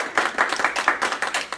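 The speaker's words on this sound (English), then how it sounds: "Round of applause for Trish." Audience applause for Trish at a fringe festival show, a short burst of brisk, fairly close clapping with quick uneven beats from a modest crowd, no voices over it.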